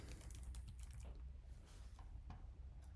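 Keys tapped on a computer keyboard while an email address is entered, a soft irregular clatter of keystrokes, quiet and close, with no voices.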